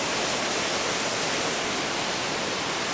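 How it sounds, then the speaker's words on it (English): A waterfall heard from a lookout near Katherine, a steady dense rush of falling water with no breaks and no voices. "Oh, there obviously is a waterfall down there,"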